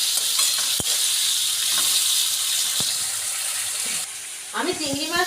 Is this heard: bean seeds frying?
yes